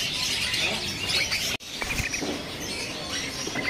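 Local sooty-headed bulbul calling from a kiosk at an Indonesian bird market, short chirps and tweets amid a busy hissy background with other birds, a brief clunk near the middle.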